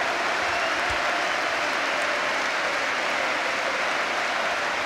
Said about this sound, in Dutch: En Cocu gaat onder een ovationeel applaus van het veld af.